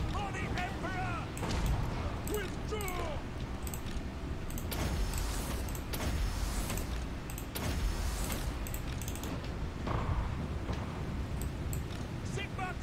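Units shooting in a Total War: Warhammer battle, with bursts of gunfire, clanks and battle noise in a dense, continuous mix, and people talking over it.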